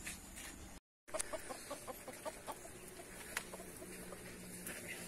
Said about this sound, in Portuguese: As galinhas aí.